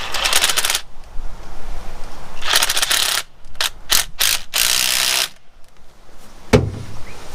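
Ratchet tightening clamps on a fuel tank: loud bursts of rapid clicking ratchet strokes, separated by short pauses and a single sharp knock near the end, with no talk.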